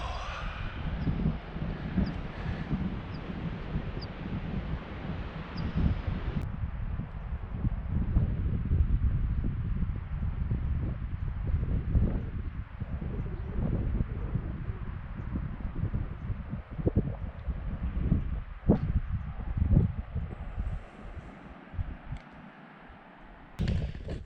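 Strong wind blowing across the mountain of Ben MacDhui in Scotland, a loud, steady buffeting roar with gusty rumbles hitting the microphone throughout, easing slightly partway through.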